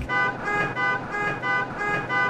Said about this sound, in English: Traffic noise, really, isn't it?